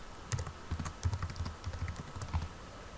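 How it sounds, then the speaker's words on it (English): Quiet keystrokes on a computer keyboard while working in CAD software, a steady run of soft clicks with a few heavier taps, close and alone. "hit Enter on our keyboard"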